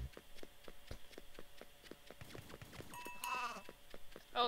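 Sheep bleating in a farming game, a few wavering calls after a run of regular light tapping or footstep-like clicks, moderately close, with no speech.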